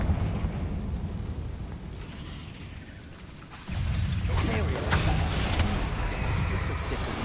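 A Confringo blasting spell in Hogwarts Legacy strikes a barricade, a sudden loud burst of crackling, rumbling destruction that breaks over a steady low game ambience and keeps churning with debris noise afterward; a voice is present in the scene.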